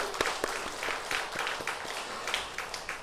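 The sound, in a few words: congregation applause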